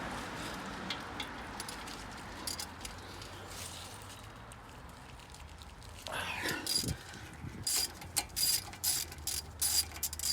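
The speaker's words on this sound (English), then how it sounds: "And loosen these bolts, which is T55." Ratcheting wrench clicks and metallic tool handling while loosening tight T55 brake caliper bolts on a Porsche Boxster during a brake disc and pad change, close and intermittent, louder in the second half.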